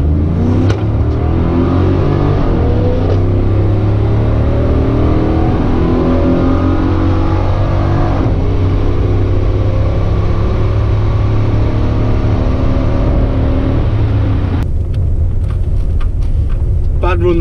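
A Chevrolet Camaro accelerates hard down a drag strip, its loud engine note rising steadily through the gears for about fifteen seconds close to the microphone, then cutting off abruptly near the end.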